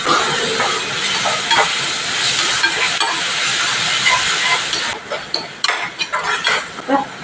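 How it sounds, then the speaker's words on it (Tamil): Chopped onions and tomatoes sauté in an oiled pan for a crab curry, giving a loud, steady sizzle and hiss that breaks into choppier, stirred crackles near the end. "வெங்காயம் நல்லா இந்த வதங்கினதுக்கப்புறம் தக்காளி போட்டுக்கணும் தக்காளி வந்து நல்லா வதங்க"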